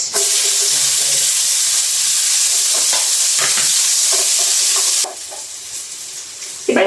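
Garlic and onion fry in a pan with a steady loud sizzle and hiss, broken by occasional stirring clicks, the crackle easing off near the end.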